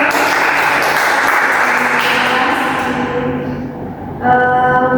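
Group applause in an indoor counseling session, dense sustained clapping that fades toward the end before a brief tonal sound takes over.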